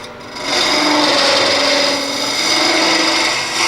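A wood lathe turns a tulip-shaped wooden vessel while a captured boring bar scoops out the inside, giving a steady, loud hissing scrape that holds for several seconds.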